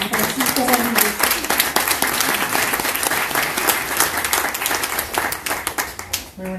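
A conference audience gives a strong round of applause to a palmistry lecturer being introduced, dense and loud throughout, with a voice briefly speaking near the end as the clapping fades.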